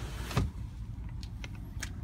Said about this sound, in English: That sliding rear window.